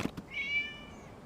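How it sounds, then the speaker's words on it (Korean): A cat meows once in the Genshin Impact game world, a clear drawn-out call that rises and holds, quiet and fairly close, heard alone after a couple of soft taps. "아, 고양이구나."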